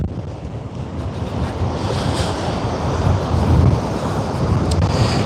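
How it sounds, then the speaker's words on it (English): Cold wind blowing hard across the Cromer seafront in North Norfolk, a steady roaring rumble into a muffled microphone with surf washing underneath, swelling in gusts and holding loud throughout with no talking. "God, that wind is cold."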